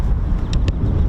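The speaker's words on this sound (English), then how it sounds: "It's getting a bit windy." Steady low wind rumbles and buffets against an outdoor microphone at an airfield beside an RAF base, with a couple of brief higher whooshes over the continuous gusting.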